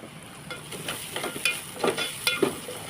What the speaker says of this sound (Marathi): व्यवस्थित तेलामध्ये परतून घ्यायचं